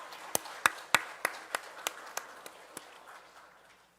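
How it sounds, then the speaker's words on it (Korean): A small church congregation gives a brief round of applause for the choir, about nine sharp, separate claps spaced evenly and fading toward the end, faint against a quiet room. "우리 찬양대 위해서 박수 한번 다시 한번 치겠습니다"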